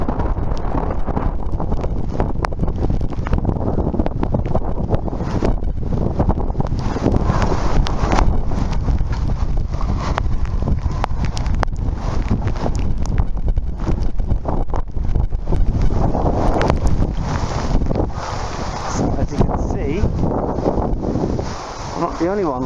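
Strong wind from Typhoon Hagibis roars and buffets the microphone in Kobe, Japan, a loud, continuous rumbling gusting that barely lets up.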